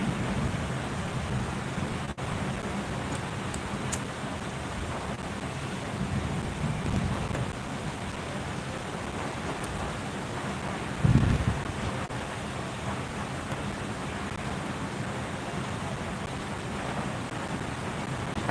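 Heavy rain and gusting wind make a steady, broad roar, with a brief louder gust or rumble partway through and no voices.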